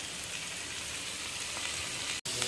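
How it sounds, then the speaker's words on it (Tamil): Chopped prawns frying with onions in a pan give a steady, even sizzle that runs throughout, with a brief dropout near the end and no talking. "குட்டி குட்டியாக கட் பண்ண ப்ரான்ஸ் போட்டு நல்லா ஃப்ரை பண்ணிக்கலாம்"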